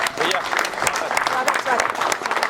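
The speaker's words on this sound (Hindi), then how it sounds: "बड़ी जोरदार तालियों के साथ स्वागत करेंगे गजराज दास महन जी का।" Audience applause at a Chhattisgarhi comedy poetry stage show, steady clapping from a crowd heard under a speaker's voice throughout.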